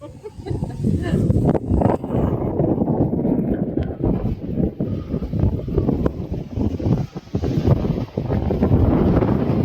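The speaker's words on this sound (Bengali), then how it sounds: "হু হু করে হাওয়া দিচ্ছে।" A strong, cold winter wind roars and buffets the microphone in a continuous low rumble, with brief dips and surges throughout.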